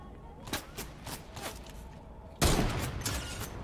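Distant gunfire in a Fortnite match, with a few faint spaced shots followed by one sharp, louder blast, while players talk.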